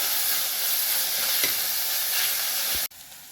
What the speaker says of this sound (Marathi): टोमॅटो देखील आपल्याला 2 ते 3 मिनिट छान परतून घ्यायचा आहे.